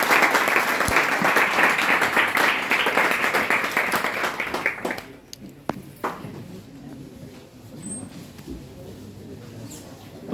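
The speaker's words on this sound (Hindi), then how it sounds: "आप जोरदार तालियों से उनका स्वागत करें।" Loud, dense applause from a college lecture audience welcoming a guest, sustained clapping for about five seconds before it drops away to a few stray claps and quiet room noise.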